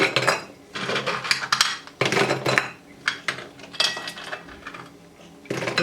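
Crisp, cooled homemade revri, sesame-coated jaggery or sugar sweets, handled and shaken in a kitchen, giving bursts of dry clattering and rattling close up, with brief pauses between handfuls and no talk.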